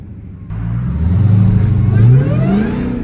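A hoodless 1000hp Dodge Demon 170 Charger revs hard while sliding through a turn, its engine note loud and close, rising and falling in pitch with a deep rumble, no talk over it.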